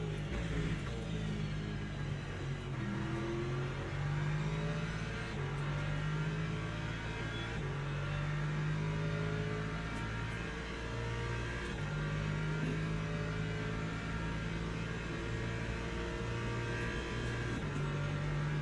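Race car engines drone continuously in the Le Mans Ultimate racing game as an LMP2 prototype closes in, with rising and falling revs from shifting and acceleration, loud and steady throughout with no talking.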